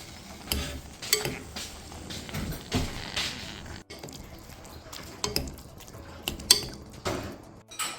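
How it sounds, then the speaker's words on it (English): Stirring a garlic, cornstarch and white wine mix in a fondue pan for Swiss fondue savoyarde, heard as scraping utensil sounds and soft clinks against the pot, recurring unevenly at close range with no one talking. "Give it a little stir."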